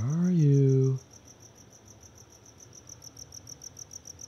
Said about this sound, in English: Where are you, little cricket?